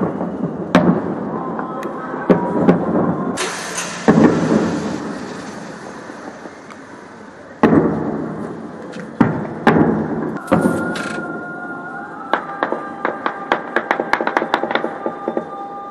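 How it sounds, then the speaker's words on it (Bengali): Explosions in Srinagar during cross-border shelling, a series of sharp booms and deep rumbling blasts at irregular intervals, some distant and rolling, others closer, ending in a rapid crackling cluster. "বিস্ফোরণের শব্দ আপনারা শুনছেন।"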